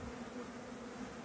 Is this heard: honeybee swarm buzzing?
yes